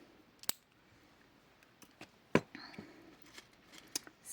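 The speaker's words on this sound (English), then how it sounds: "Right, then I can snip off my excess wire here." Wire cutters snip off excess wire on a dress-up bag design: a few sharp, isolated clicks stand out over a quiet background, the loudest near the middle.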